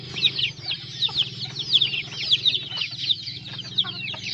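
F2 crossbreeds of jungle fowl and village chickens, kept among village chickens, cluck close by in a busy, rhythmic chorus of repeated short calls that keeps going without a pause.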